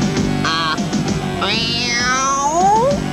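A cat meows repeatedly up close, several short cries followed by a longer, drawn-out wail that slides down in pitch.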